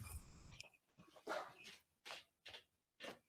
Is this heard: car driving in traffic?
no